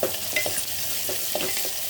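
Sliced onions frying with a pinch of salt in a pan, a continuous close sizzle with soft intermittent stirring scrapes, no voices.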